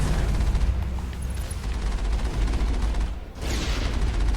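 Enemies shooting in the sci-fi shooter Mass Effect: a dense, loud barrage of overlapping gunfire and blasts with a rumbling low end, one short lull near the end, then the firing resumes.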